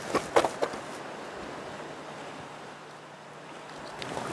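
Soft, steady wash of ocean surf on an Alaskan beach, with a few faint knocks and bumps early on, heard from a distance without any voices.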